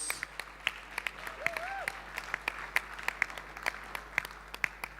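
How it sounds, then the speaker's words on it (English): Audience applause at an African forum on displacement and private-sector solutions, heard as a steady wash of clapping that fills the room for several seconds, with sharper individual claps standing out. A brief tone rises and falls partway through. "Another round of applause."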